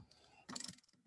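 A wrench ratchets briefly as fittings are snugged on a fog generator's heat exchanger, giving one short burst of quiet metallic clicks in an otherwise hushed room.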